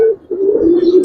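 A giribaz pigeon at a pigeon farm gives one sustained, close coo that dips briefly and then continues, loud and alone, with no talk.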